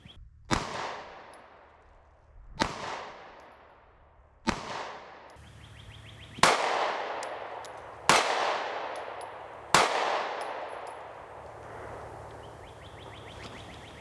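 A Sig Sauer P365 XL Specter Comp pistol fired on a range: six loud, well-spaced shots, each a sharp crack that rings out and decays before the next, with no talking.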